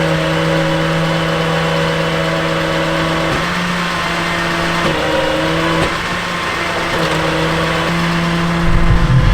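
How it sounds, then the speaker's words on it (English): A Chevy work truck's hydraulic dump bed raising at the push of a button, a steady droning pump whine with a few shifts in pitch, fairly loud and continuous with no talking. "just at the push of a button, you've got a full dump bed"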